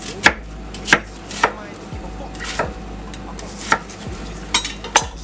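An onion is chopped into big chunks on a board, with about a dozen crisp knife strikes at an uneven, unhurried pace, close and clear over a low steady hum.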